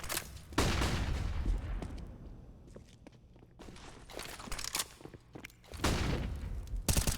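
Rifle fire from AK, Galil and M4 rifles in a Counter-Strike match on the Mirage map, with sharp bursts and scattered single shots at varying distances, mixed with footsteps.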